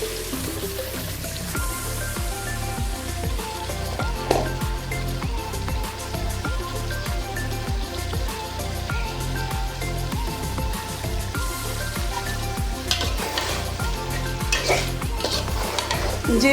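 Fried potatoes are stirred into spiced masala in a pan for rui fish curry, a spoon scraping and clinking against metal over continuous oily sizzling, busy and close throughout.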